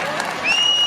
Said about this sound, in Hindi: एक बार जोर से ताली हो जाए।